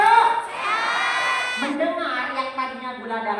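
An audience at an Indonesian health-therapy testimonial event cheers and shouts loudly and continuously, with high whooping voices layered over a lively crowd.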